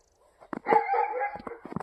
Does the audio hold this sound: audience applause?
no